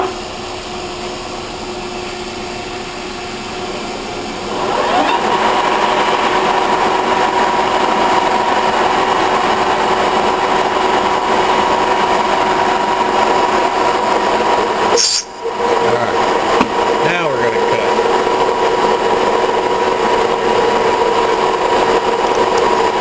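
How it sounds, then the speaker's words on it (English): Hard aluminum bronze is cut for a payloader arm repair. A loud, steady machining drone starts a few seconds in and carries on nearly unbroken, with one brief dip midway. "Aluminum bronze is kind of hard. You can tell when you're cutting it."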